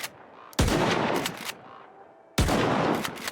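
Hip-fired gunshots in the shooter game S.T.A.L.K.E.R. 2, two loud, sharp bursts with ringing tails, separated by a quieter gap of low ambient noise.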